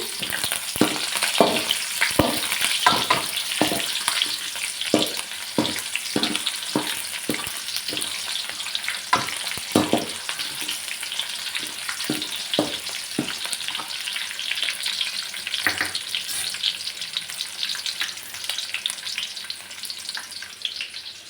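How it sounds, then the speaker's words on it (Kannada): Onions sautéing in a pan with a steady loud sizzle, stirred often by a spoon that scrapes and knocks in a quick rhythm early on, then more sparsely. "ನೆಕ್ಸ್ಟ್ ಈರುಳ್ಳಿ ಹಾಕಿ ಚೆನ್ನಾಗಿ ಬಾಡಿಸ್ಕೋಬೇಕು"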